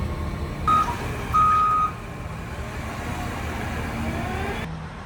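A truck delivering a 1993 Mazda Miata rumbles close by while two short electronic beeps sound early on, with the engine running steadily under them and no talk.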